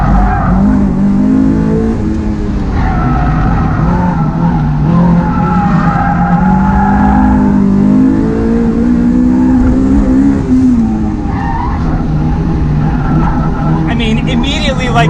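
A Honda S2000 AP1 sliding around a race track, loud engine drone rising and falling with tire squeal as it drifts, with someone talking over the car noise throughout.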